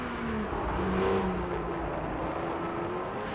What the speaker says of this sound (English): Did he just rev it upshifted or downshifted perhaps, and then you can hear the revs go up and into the exit of the corner